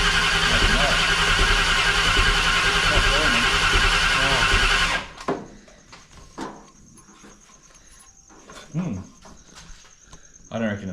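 A turbocharged Holden V8 turns over loudly on its first start attempt, a dense continuous cranking roar that cuts off abruptly, followed by quiet clicks, tool clatter and brief voices.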